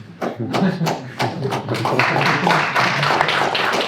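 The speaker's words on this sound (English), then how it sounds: "But thank you for the applause." Applause from the audience at a PyCon 2023 conference talk, a patchy spatter of individual claps that thickens into steadier clapping, fairly close and with no voices over it.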